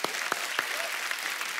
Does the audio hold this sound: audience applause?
yes